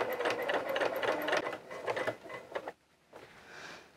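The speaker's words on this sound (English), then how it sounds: "And just as gently as I can, top stitch it around." A sewing machine top-stitches a child's coverall in a rapid, close whirring burst that slows and stops partway, followed by quieter mechanical handling.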